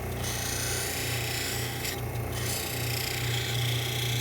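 A hand file rasps continuously against the edge of a thick eyeglass lens, a close and steady gritty scraping with slight changes in stroke and no voices.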